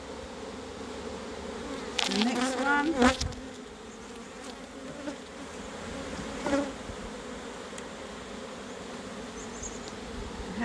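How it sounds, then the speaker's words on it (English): Honey bees buzzing around a hive frame during a spring check, a continuous close swarm hum with louder bursts as the bees are shaken off, and a brief quiet spoken remark partway through. "so I'll just shake the bees at the front door there"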